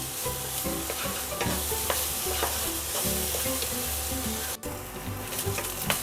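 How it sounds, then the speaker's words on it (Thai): Pork belly sizzles in a hot pan as it is stir-fried, with steady loud frying hiss and repeated scrapes and clacks of a utensil stirring against the pan, close up and without talk. "แล้วก็รวนไปเรื่อย ๆ นะครับ"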